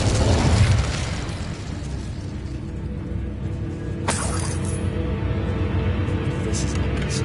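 In the Hogwarts Legacy video game, an Incendio fire spell is cast with a bright burst at the start, then a sharp crackling flare midway over a low, rumbling background.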